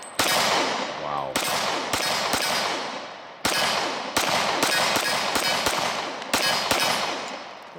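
A Springfield Armory XD-45 pistol fitted with a DPM recoil reduction system fires .45 ACP rounds outdoors in a series of loud, sharp shots at irregular intervals, each followed by a brief ring, roughly a dozen in total.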